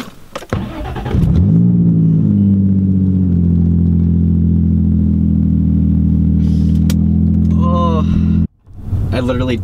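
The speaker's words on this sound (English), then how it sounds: "Infiniti G35, with complete exhaust delete past the cats. So let's hear how ear-shattering this is." An Infiniti G35 with the exhaust deleted past the catalytic converters starts and runs close by with a loud, raw, rumbling drone, then cuts off abruptly near the end as voices talk.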